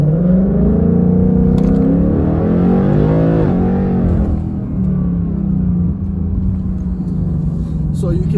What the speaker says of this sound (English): the vehicle engine's a lot louder